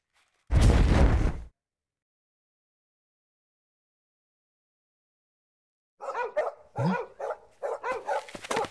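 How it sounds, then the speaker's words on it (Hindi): Several dogs bark at night in sharp, ragged bursts near the end, after one loud, heavy burst and a long stretch of silence; no voices. "अपने डॉग्स बहुत भौंक रहे हैं"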